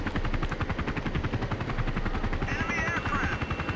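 A helicopter in the video game Battlefield 2 beats with rapid, loud rotor pulses as it flies, and a faint warning tone and a voice come in over it near the end.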